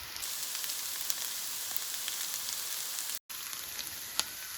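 Shredded hash browns fry in a pan with a steady, dense crackling sizzle and scattered sharp pops, broken by one very brief dropout near the end.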